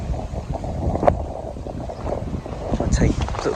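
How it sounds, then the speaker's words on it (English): Strong wind blasting across a lakeside tench fishing spot, a steady low rumble with buffeting gusts against the microphone, swelling louder near the end. "really tough in this wind. I mean, it's blasting."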